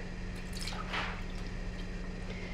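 Milk trickles and splashes into a pot while making cinnamon roll dough, a soft wet pour with a brief louder gush near the middle, quiet and close with no talking.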